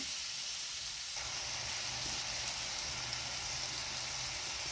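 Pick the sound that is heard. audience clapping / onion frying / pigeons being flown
onion frying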